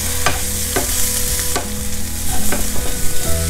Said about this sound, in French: comme ça les crevettes elles grillent bien